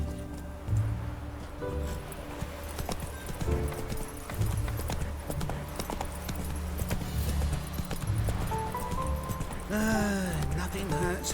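Roach, Geralt's horse in Witcher 3, with rhythmic hoofbeat clip-clops on the ground and a whinny near the end, under a man's speech.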